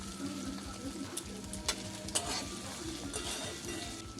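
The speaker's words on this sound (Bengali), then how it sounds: "কেটে রাখা টমেটোগুলো দিয়ে দেবো।" Chopped tomatoes added to fried onion, ginger and garlic paste in a pan, a quiet sizzle broken by a few sharp utensil knocks and stirring scrapes, with no speech.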